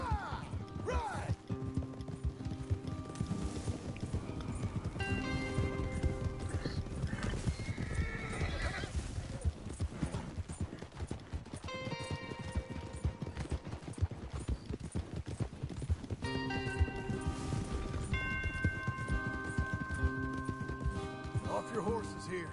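Horses galloping and neighing in the Red Dead Redemption 2 video game, steady clip-clop of hooves throughout with repeated whinnies, loud and close, mixed with game ambience and scattered voices.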